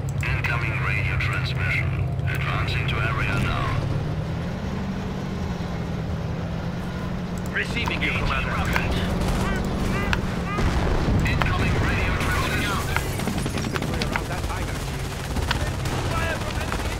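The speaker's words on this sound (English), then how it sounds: "Are they bombing us?" Bombing and artillery fire in the World War II strategy game Company of Heroes: Opposing Fronts, heavy booms and gunfire rumbling steadily under in-game radio voices and talk for the whole stretch.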